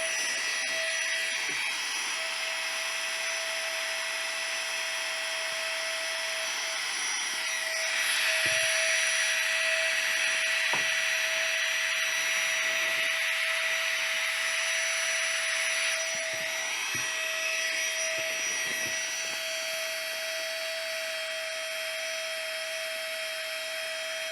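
A GIGA PUMP 2.0 electric portable air pump runs continuously while inflating, a steady high whine with a faint rise in pitch midway, close and loud, with no speech.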